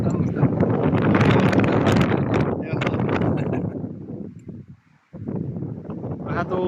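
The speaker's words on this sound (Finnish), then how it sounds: "Vähän tuulee, mutta ei haittaa mitään." Wind gusting outdoors on a rainy, windy hike during a food break, a loud broadband rush buffeting the microphone, briefly dropping away before returning, with voices talking over it.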